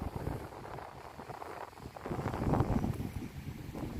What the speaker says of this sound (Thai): อนนี้ลมแรงมากนะครับผมลมหนาวมาแล้ว